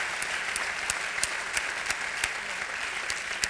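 Audience applauding at an association event, a steady wash of many hands clapping at moderate distance with sharper individual claps popping out, continuing evenly throughout.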